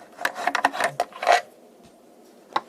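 Screws being backed out of the rear cover of a 1962 Sylvania TH-16 transistor radio: a quick run of close, rasping scrapes and squeaks, a quiet pause, then one more brief scrape.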